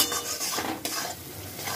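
Poppy seed paste frying in a pan, a soft sizzle with a few scraping stirs of a utensil against the pan, close and fairly quiet, no voices.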